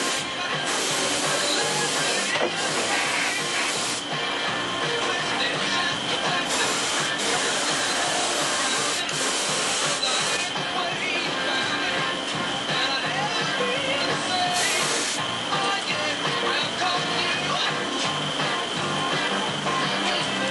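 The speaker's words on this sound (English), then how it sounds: "Now I'm using the shop vac again as an air pump to blow some of this fumes out of here." A shop vac running as an air pump blows fumes out of a workshop, making a loud continuous hissing roar that stays steady from start to end with small dips.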